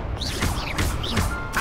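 Hogwarts Legacy gameplay, with spell casts and impacts going off one after another, marked by whooshing magical tones, crashes and sharp hits.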